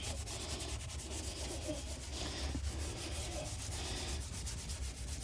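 A cloth scrubs leather car seats with cleaner in a Rover 200 BRM, a dense, continuous rubbing swish that pulses back and forth close up, with no talk over it.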